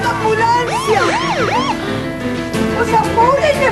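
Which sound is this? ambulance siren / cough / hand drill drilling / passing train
ambulance siren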